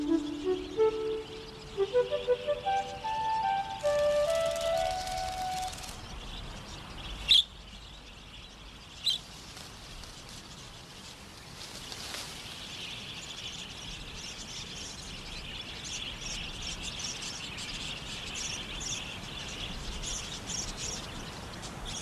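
Wild budgies chirp in a quick, rising run of bright calls at the start, followed by a few sharp chirps and then softer scattered twittering in the background. The calls sound fairly close at first and later more distant.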